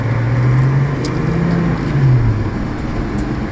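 A 2008 Nissan 350Z drift build driving: steady, loud engine drone with a low hum and road noise, continuous and close, with no talking.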